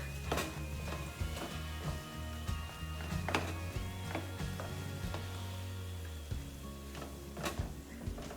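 Ground turkey sizzles steadily in a frying pan while a spatula scrapes and taps against the pan at irregular moments, close by, with a low hum underneath and no talking.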